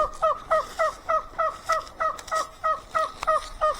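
A farm turkey in Alaska calling in a steady series of about a dozen loud, close, two-part honking calls spaced evenly apart, with no talking.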